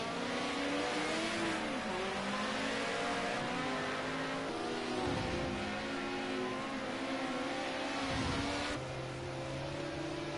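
Ford Sierra race car driven hard at Zolder on worn-out rear tyres: a loud engine screaming and revving continuously, pitch climbing and dropping with gear changes, close and sustained.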